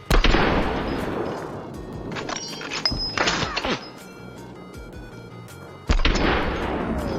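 Gunfire in the co-op mode of the video game Hunt: Showdown, several loud sharp shots with ringing tails and a burst of rapid cracks in between, close and unaccompanied by talk.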